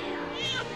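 A voice imitates a cat's meow, a single short drawn-out vocal miaow, close and clear over a faint musical background.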